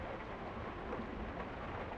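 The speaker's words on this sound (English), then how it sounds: "Your thoughts are interrupted by the roaring thunder and the pouring rain." Steady, dense roar of heavy pouring rain with a low rumble of thunder, an audio drama storm effect, continuous and fairly quiet with no voices.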